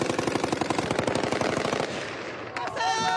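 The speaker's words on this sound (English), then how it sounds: "And a lot of celebratory gunfire" Rapid bursts of celebratory automatic gunfire in Syria rattle continuously, loud and sustained, then drop off before a few scattered shots and a faint whine near the end.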